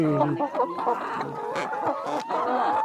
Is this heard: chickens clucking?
yes